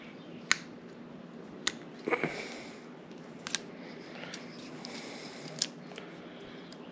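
A blade cutting shrink wrap off a pen, with sparse sharp snips and clicks spaced over quiet background noise.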